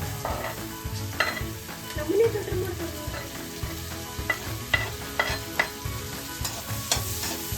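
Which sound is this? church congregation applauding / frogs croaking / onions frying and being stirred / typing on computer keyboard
onions frying and being stirred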